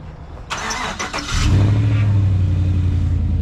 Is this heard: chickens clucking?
no